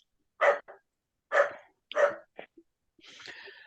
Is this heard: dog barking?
yes